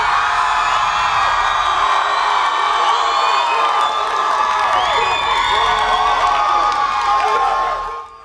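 Loud crowd cheering at a blind-date dating show for contestant number two, with shrill screams, whoops and scattered clapping running continuously for several seconds before fading out at the end.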